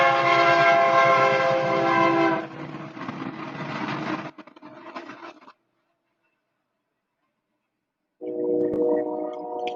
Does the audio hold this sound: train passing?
yes